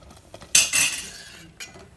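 Semiya payasam is stirred in a cooking pot, with a metal spoon scraping and clinking against the pot in a couple of close strokes and quiet background between them.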